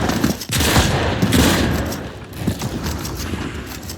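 Rapid gunfire from the video game Fortnite, loud bursts of shots crackling in quick succession with no speech over them.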